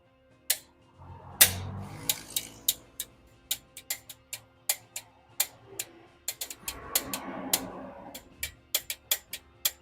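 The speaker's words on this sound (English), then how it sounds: "Now we are doing the third and the last pass with the torque wrench." Torque wrench on a Toyota 3SFE engine rebuild clicks repeatedly as the bolts are tightened on the final pass, a steady series of sharp, close ticks with some low handling noise between them.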